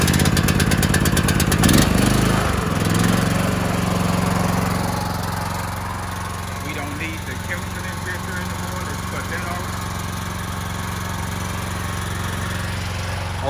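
A gas-powered pressure washer engine runs steadily with a low, continuous hum and rattle for cleaning concrete, loud and close throughout, with a brief clattering burst near the start as it catches.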